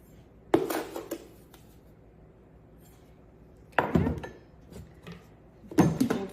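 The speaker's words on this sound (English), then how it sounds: "So we've got sugar, we're gonna kind of mix that together" Sugar for pumpkin bread is mixed by hand in a bowl, with three separate bursts of clattering, scraping utensil-on-bowl sounds and quiet pauses between them.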